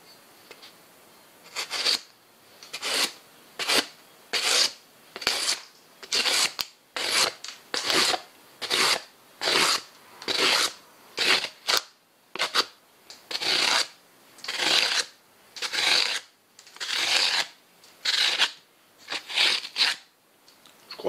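A deck of playing cards is handled in a long series of rhythmic riffling and rasping bursts, about twenty close, crisp strokes separated by short pauses.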